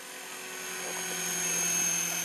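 A Trex 450 FB RC helicopter flies outdoors in snow, giving a steady, high-pitched rotor and motor whine that swells slightly as it comes nearer.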